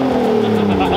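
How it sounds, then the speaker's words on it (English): A BMW E36 with a welded differential revs hard and skids, its engine a loud, close, droning roar with a brief squeal mixed in over about one second. "we just took the car for a skid"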